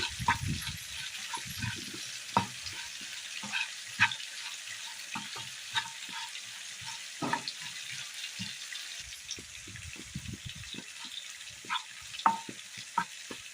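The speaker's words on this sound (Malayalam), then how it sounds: "അണ്ടിപ്പരിപ്പിൻ്റെ പേസ്റ്റ് കൂടി ചേർത്ത് കൊടുക്കാം ഇളക്കിയെടുക്കാം" Anchovy fry sizzling steadily in a pan while cashew paste is stirred in for a Kerala dish, with repeated scraping strokes of the spoon over the continuous frying hiss.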